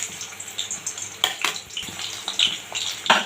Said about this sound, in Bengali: কড়াইতে সাদা তেল দিয়েছি। তা প্রথমে এখানে আমি রসুন থেতো করাটা দিয়ে দেবো।